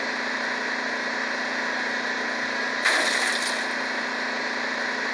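A vehicle engine in the mobile shooter Free Fire idles with a steady, continuous hum and drone, joined by a brief louder rattle partway through, with no voices.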